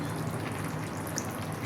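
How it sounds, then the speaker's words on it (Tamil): Fish curry (meen kulambu) bubbles gently in a pot, a soft, continuous burble of small pops heard close up with no voices. "குழம்பும் நல்லா தளன்னு கொதிச்சிருச்சு"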